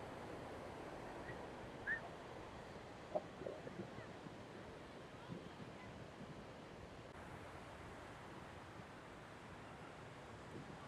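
Ocean waves and wind at Payyambalam beach in Kannur, Kerala, form a steady, even wash of surf and breeze that runs throughout, with a few faint, brief knocks and no talking.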